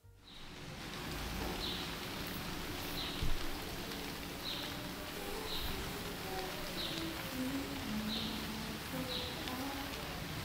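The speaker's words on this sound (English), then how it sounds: "It's been raining so much this past few days" Steady rain falls in Berlin during summer, a soft continuous hiss with faint scattered drops and one brief louder tap, heard from a fair distance with no talking.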